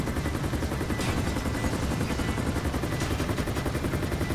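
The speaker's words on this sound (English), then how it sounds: "helicopter called the Nagasaki Havoc" Nagasaki Havoc helicopter in GTA 5, a loud, steady rapid chopping of rotor blades throughout, close and continuous with no talk.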